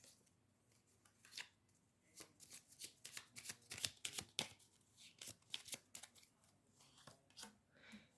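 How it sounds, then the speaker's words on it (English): Playing cards shuffled close up in a run of quick riffles and soft flicks, loud bursts separated by brief pauses. "let me shuffle the cards"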